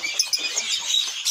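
Small birds chirp and tweet in a quick, busy chatter at an Indonesian bird shop, close and fairly clear, with no talking.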